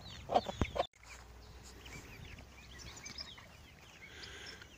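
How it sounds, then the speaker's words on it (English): Young chicks living in a paddock pen cluck and peep a few times up close at the start, then fall quiet, leaving soft outdoor ambience with faint distant calls. "Here are the chicks that have been living in the paddock."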